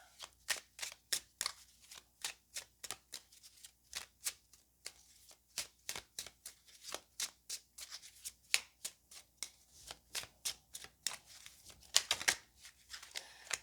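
Tarot cards are shuffled and drawn in a steady stream of crisp, rapid flicks and snaps, close and fairly quiet, running continuously with a slightly denser burst near the end.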